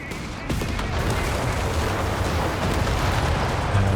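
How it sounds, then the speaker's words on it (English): Heavy mortar fire in the Company of Heroes 3 real-time strategy game, with a sharp blast about half a second in, then a dense, loud, continuous rumble of explosions and battlefield noise through the rest. "That's a bit of mortar action and the heavy mortar"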